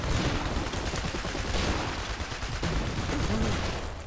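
Dense, continuous battlefield gunfire from machine gunners in the Iron Harvest real-time strategy game, a loud sustained fusillade of overlapping bursts filling the whole stretch without pause.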